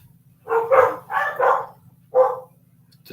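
Dogs barking in several separate bursts, moderately close and fairly loud, with a low steady hum running underneath.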